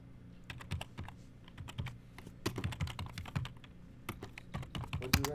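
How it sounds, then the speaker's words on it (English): Rapid, irregular keystrokes clatter on a computer keyboard during a backgammon live stream, with clicks and bursts close to the mic and no talking. "I'm just typing in the play that was played because I think it was illegal."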